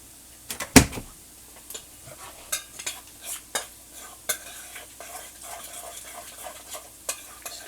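Raw egg being stirred into a tuna patty mixture in a bowl: a sharp clank at the start, then a run of soft, irregular wet scrapes and taps of a utensil, quiet and close.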